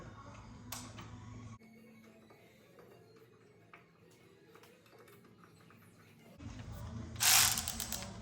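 A Milwaukee pass-through ratchet tightens 14 mm caliper bracket bolts on a Hyundai Elantra, clicking in two close bursts of rapid pawl ticks, one at the start and a louder one near the end, with a quiet gap between.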